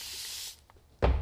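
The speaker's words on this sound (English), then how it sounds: "One way to keep the moisture up inside is to spray the lid" A short burst from a spray bottle misting an acrylic paint palette lid hisses for about half a second, followed after a pause by a soft thump.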